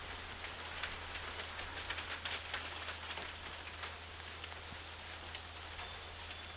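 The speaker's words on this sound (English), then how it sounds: "getting rained on." Rain falls steadily outdoors over a blacksmith's forge area, a soft continuous patter of drops on surfaces with a faint low hum underneath and no voices.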